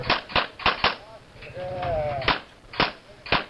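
Pistol shots ring out during a shooting competition stage: a quick string of four sharp cracks, a pause for a reload with some handling noise and a voice, then three more spaced shots, all fairly close.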